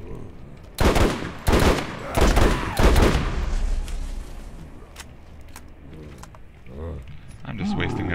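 Bursts of loud automatic gunfire from the video game Borderlands: Zombie Island of Dr. Ned, several rapid volleys close together early on, then fading into quieter game sounds with a voice talking.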